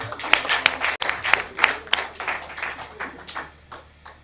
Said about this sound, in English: A resounding applause for him.